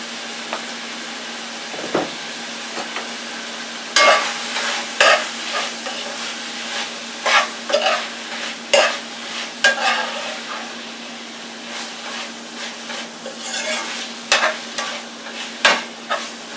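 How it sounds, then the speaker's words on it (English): Previously cooked Italian sausage sizzles in a pan of meat sauce while a spoon stirs it, giving irregular bursts of scraping and bubbling over a low steady hum, close up and with no talk. "I'm going to add back in my Italian sausage that I had previously cooked"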